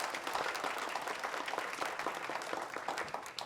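An audience at a Kansai cultural project screening event gives brief, moderately distant applause, a dense patter of many hands clapping at once.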